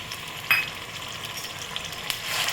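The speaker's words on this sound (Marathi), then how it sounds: "तेल गरम झालेले, त्यामध्ये हे लसूण अद्रकची पेस्ट घालून द्यायची" Ginger-garlic paste hitting hot oil in a home kitchen pan for goat trotter soup, a quiet steady sizzle with a brief sharp spatter burst near the start and another crackle later.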